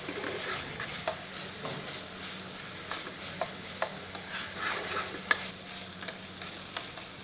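Onions fry in a pan for paneer bhurji, a soft steady sizzle broken by regular spoon scrapes and taps against the pan, close but fairly quiet, with no talking.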